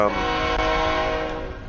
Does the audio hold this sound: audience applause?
no